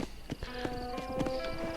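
Horse hooves clip-clop in a steady trotting rhythm in the video game Red Dead Redemption, with creaking tack and a faint whinny, set against a soft ambient background.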